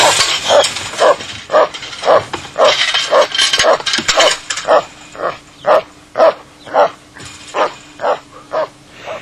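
A dog barks over and over, loud and close, the barks crowded and overlapping at first, then settling into an evenly spaced, steady series of single barks.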